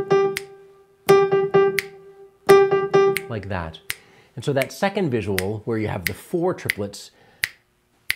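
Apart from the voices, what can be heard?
finger snapping steady pulse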